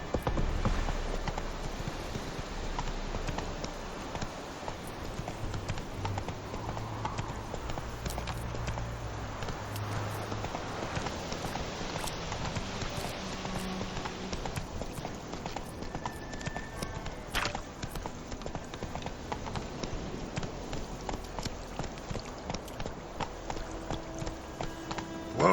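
Hooves of Roach, a horse in a video game, clip-clop in a steady galloping rhythm throughout, continuous under a constant game soundscape with faint voices.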